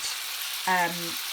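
Meatballs frying in a pan of mince for a tomato sauce, a quiet steady sizzle with a brief tonal scrape or squeak from turning them midway.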